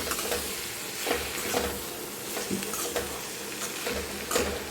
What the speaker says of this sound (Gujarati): ટીંડોળી બોઇલ કરેલી છે એટલે હલકા હલકા હાથે આપણે એને મિક્સ કરીશું.